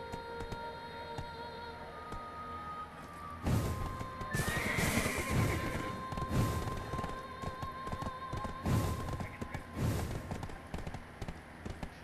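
A horse in the video game Black Desert whinnies loudly, then hoofbeats pound in a fast galloping rhythm over game background sounds.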